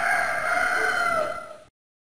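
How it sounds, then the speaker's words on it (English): A cartoon rooster crows once on a busy farm in the Richard Scarry's Busytown video game, a loud, clear, drawn-out cock-a-doodle-doo that cuts off abruptly after about a second and a half. "The morning starts with rooster's call."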